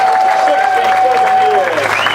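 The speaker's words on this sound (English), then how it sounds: "Let's give them a round of applause." Loud, continuous audience applause at a church auction, dense clapping throughout with a thin sustained tone and crowd voices mixed in.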